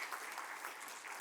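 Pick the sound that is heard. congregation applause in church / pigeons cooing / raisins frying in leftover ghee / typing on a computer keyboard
congregation applause in church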